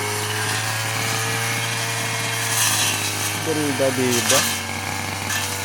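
A gas-powered grass cutter running in a farm yard, a steady loud droning engine hum that rises a little in pitch near the end, with a person talking briefly over it.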